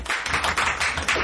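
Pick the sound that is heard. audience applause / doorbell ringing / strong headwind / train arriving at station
audience applause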